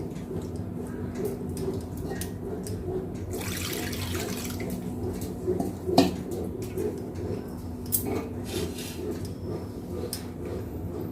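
Cold water runs from a tap over curdled milk being rinsed for a Bengali sweet, a steady soft splashing close by with a few clinks of a vessel.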